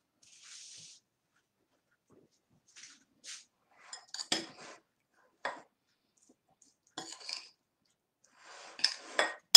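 A black rice salad with avocado and chicken being mixed in a bowl: sparse, separate clinks and scrapes of utensils against dishware with quiet gaps between them, growing busier toward the end.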